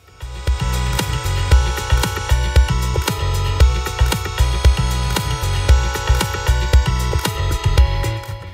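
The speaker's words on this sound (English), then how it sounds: "I've added some basic chords to the bass line." Sustained synth chords ring over a steady, pulsing low bass line in Ableton Live, with regular rhythmic accents throughout; no voices.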